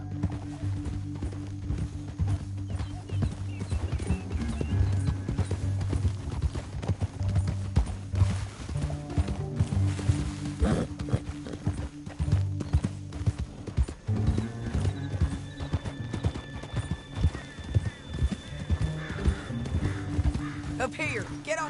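Horses gallop with steady clip-clopping hooves and an occasional whinny in Red Dead Redemption 2, running continuously over a droning musical score with voices talking.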